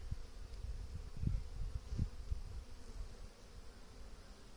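Honey bees in a newly installed hive, a faint soft buzzing with a few louder low thumps, no voices.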